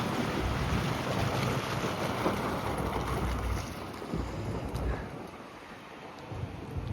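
A John Deere 8400R tractor hauling sugar beet pulls in from the field, its engine a broad, steady rumble mixed with heavy wind buffeting that eases slightly toward the end.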